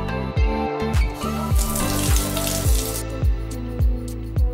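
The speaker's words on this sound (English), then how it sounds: "Recycle straw to make a faucet." Water runs from a miniature faucet made of recycled straw in a tiny model kitchen, a steady close trickle and splash with soft rhythmic pulses, no voices.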